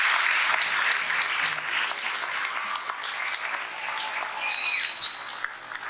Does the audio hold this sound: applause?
yes